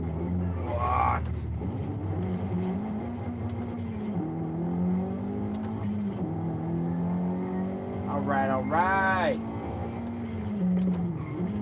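A Nissan car's engine in Forza Horizon 5 hums at a steady cruise, with brief tyre squeals. Someone talks over it now and then.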